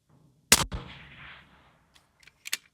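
A single sharp rifle gunshot at an outdoor shooting range cracks loudly and decays into a brief echo, followed by a few faint clicks and taps.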